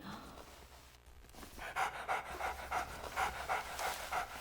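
Huey, a dog in the video game Haunting Ground, pants in quick rhythmic breaths, steady and fairly close, with faint game ambience underneath and no talk.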